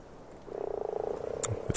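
Frog croaking in the game Ark Survival Evolved, a rapid, rhythmic run of pulsing croaks lasting about a second, fairly close and clear over a quiet background, followed by a couple of short clicks.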